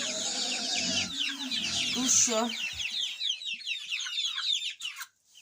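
Chickens cluck and chirp inside a cage kept beside young chicks, a dense cluttered chorus close by with a person talking briefly over it.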